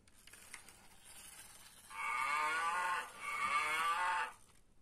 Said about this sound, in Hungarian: Hú, megjöttek a tehenek.